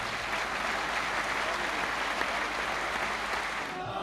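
Audience applause at a ceremony, steady many-handed clapping that carries on evenly at moderate volume, with a faint voice near the end.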